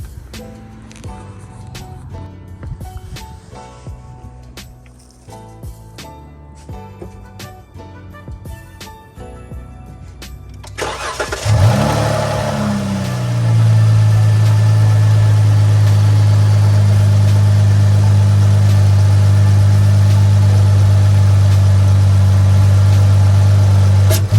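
Faint clicking and tapping, then a Chrysler 300 V6 engine cranks and catches with a roar before settling into a steady, loud, low idle.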